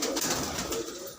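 Fancy pigeons coo close by in a quick series of soft, throaty calls over a steady background hiss, with no talking.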